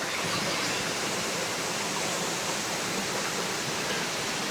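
Steady, dense roar of Kuyawyaw Falls near El Nido, Palawan, a continuous broadband rush with no breaks, fairly close and full.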